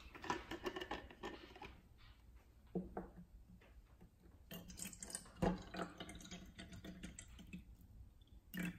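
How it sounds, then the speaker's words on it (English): VOSS water from Norway pours and splashes into a container in uneven gushes, with small drips and clinks, fairly quiet and close, no talking. "Let's pour some water in."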